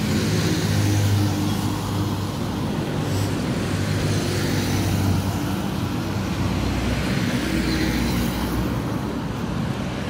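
Steady traffic rumble from vehicles crossing a new city flyover in Kampala at night, a continuous loud wash of engines and tyres with low droning hum and passing swells, no voices.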